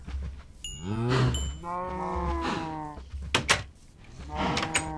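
Cows in a video game give long drawn-out moos, one after another, close and fairly loud over a low background hum, with a few clicks between calls.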